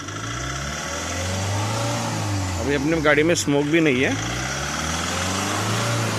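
A car engine with knocking injectors, treated with Soka Rapid, idles steadily close by in a continuous low hum, with someone speaking briefly over it partway through.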